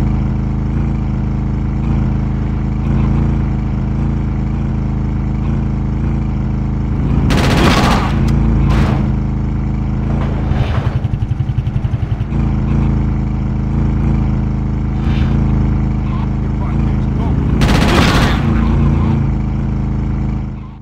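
Bursts of gunfire in GTA Chinatown Wars ring out around 7.5–9 and 17.5–18.5 seconds over a constant loud drone of engine and game background noise, with a couple of sharper shots in between.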